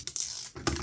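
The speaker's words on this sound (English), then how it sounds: "Get my little scissors and cut the excess off." Small scissors snip away excess material while a Samsung GD-ROM drive from a Dreamcast is being repaired: two short, crisp cuts close by.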